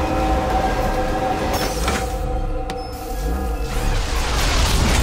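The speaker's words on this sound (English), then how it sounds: "Wow! I'm on a big train" A train rumbles steadily with a broad, continuous roar and low-end drone, heard from close by, with no voices.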